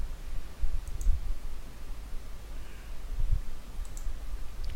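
Computer mouse clicks during a System Center Service Manager 2016 software installation, a few faint, sharp clicks spaced apart over a low steady background hum.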